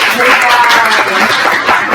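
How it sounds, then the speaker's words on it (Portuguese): Loud, dense applause from students at an ENEM prep class in Pacoti, Brazil, a continuous wash of clapping close by, with voices mixed in. "Salve de palmas, pessoal, para Carol"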